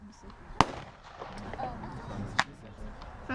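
Flashbang firework shells fired from a mortar tube outdoors, with two sharp, loud bangs about two seconds apart over a quiet background murmur of people talking.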